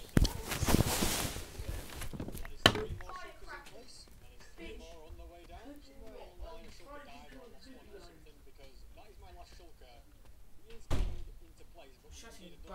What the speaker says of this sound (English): I'm gonna go shut the door.